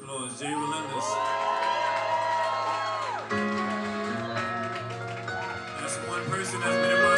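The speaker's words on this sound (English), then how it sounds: "can you please give this man a round of applause" A loud crowd at a stage show cheers and whoops for the performer Jay Relentless, with rising shouts over a busy, continuous din and voices mixed in throughout.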